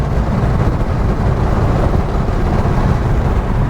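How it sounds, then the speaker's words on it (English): Loud, steady wind and road roar rushes through the open window of a Rover 3500S P6 while driving, a continuous broadband rumble that is heavy in the low end, with no voices over it. "I will do the window up, that probably is very loud and annoying for you."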